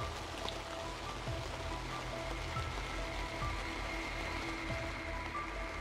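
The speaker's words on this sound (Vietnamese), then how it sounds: "Hiện tại thì trời mưa rất là nhiều rồi các bác này" Heavy rain pours down steadily outdoors, a dense continuous wash of drops with no pauses and no one speaking.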